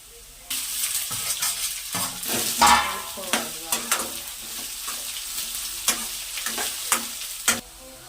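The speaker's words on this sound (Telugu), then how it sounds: "ఇలా ఎర్రగా వేగాక పొట్లకాయ ముక్కలు వేసుకోవాలి." Snake gourd pieces frying with onions and curry leaves in a pan, a steady sizzle under repeated scraping and stirring strokes, with a burst of louder frying as the pieces go in, no talking.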